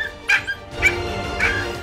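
A puppy just rescued after its head was stuck gives three short, high whimpering yips, close and clear, with faint background noise between them.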